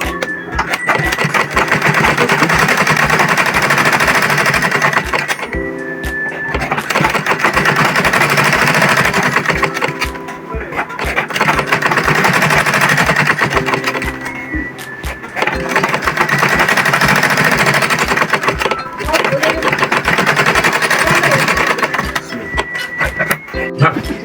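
Sewing machine stitching a straight one-inch seam along a fabric tote bag, running in long continuous bursts with rapid rhythmic needle chatter, briefly pausing between passes, loud and close.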